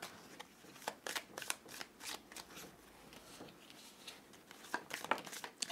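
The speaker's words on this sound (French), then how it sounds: "Je vais tirer 3 cartes." Tarot cards being shuffled and drawn, giving a quick series of crisp riffling snaps and soft slides, fairly close and moderately quiet, with no voice over them.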